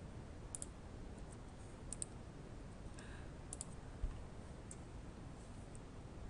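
Mouse clicks on a computer while operating lab software for a pressure versus temperature experiment: several faint, sharp clicks scattered singly and in close pairs over a quiet background hum, with no talking.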